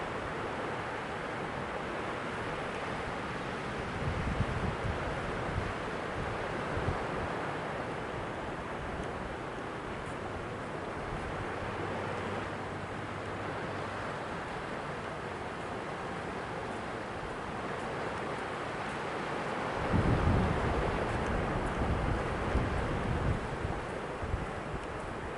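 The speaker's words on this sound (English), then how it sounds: "put the camera out here and do some video of the ocean" Ocean waves wash onto a beach on a calm April morning, a steady broadband surf wash with a louder surge near the end, mixed with light wind rumble on the microphone and no voices.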